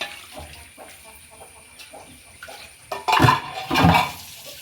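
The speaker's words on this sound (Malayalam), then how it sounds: "കഞ്ഞിവെള്ളത്തിൻ്റെ അടി ഇതിനകത്ത് ഒഴിക്കും." Leftover rice starch water poured into a container of bran feed for chickens, with clinks of a metal pot, then two louder splashing pours near the end.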